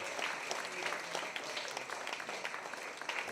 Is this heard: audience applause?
yes